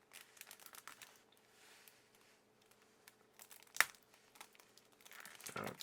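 Crinkling and tearing of plastic wrap on an Age of Ascension card game deck, bursts of handling noise with one sharp snap midway, close and quiet, no talk.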